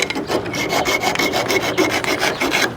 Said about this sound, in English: I've got to remove a bunch of fiberglass to make it fit better